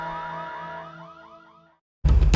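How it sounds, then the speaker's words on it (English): A sci-fi proximity alarm on a train console repeats a rapid series of warbling electronic tones that fade away, then a sudden loud, harsh blare bursts in. "Proximity alarms started screaming."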